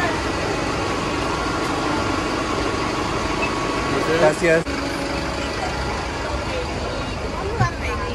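Bus engine droning steadily on the ride up to Machu Picchu, a constant rumbling hum with a few brief knocks and rattles partway through.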